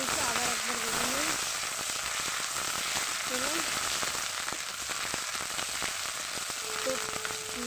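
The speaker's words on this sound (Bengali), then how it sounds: "দিলাম একটুখানি আদা জিরা শুকনো লঙ্কা বাটা, এটাও ভেজে নিই।" Paste of ginger, cumin and dried chili frying in hot oil, a steady close sizzle filling the whole stretch, with faint stirring and brief tonal sounds over it.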